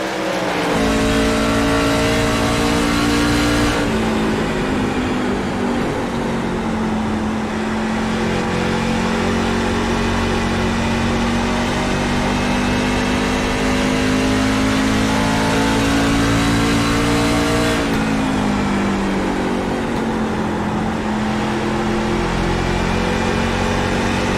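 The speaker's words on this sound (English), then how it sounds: "And here's some of the trucks shifting in turn 1 and 2" Racing trucks in the iRacing sim roar loudly and continuously, their engine note dropping abruptly twice as gears shift, over a steady, droning, high-revving pack of engines.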